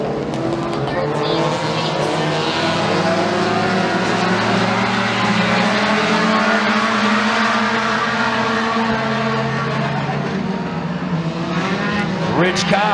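Mini stock race cars roaring around the McKean County Raceway oval after a restart, a dense continuous engine drone with rising and falling pitch as cars pass, loud throughout.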